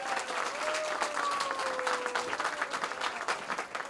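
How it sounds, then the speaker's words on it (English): Warm, sustained applause from a large audience at a Hispanic Heritage Month event at a Riverside art museum, steady and fairly close, with a faint tonal whistle or feedback line running through it. "Please give him a warm round of applause"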